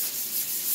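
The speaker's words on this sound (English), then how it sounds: "Okay, I'm gonna do a light sanding on the back." Steady, close light sanding on the back of a wooden vanity: a continuous dry, hissy rasp with gentle back-and-forth swells and no voices.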